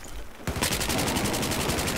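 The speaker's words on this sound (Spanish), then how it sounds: "Yeah, I shoot through my teammates." After a brief quiet moment, rapid automatic gunfire in a video game shooter breaks out and continues as one loud, fast, evenly spaced burst.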